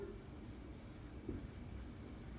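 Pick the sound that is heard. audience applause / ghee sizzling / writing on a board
writing on a board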